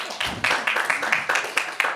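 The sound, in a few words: round of applause at council meeting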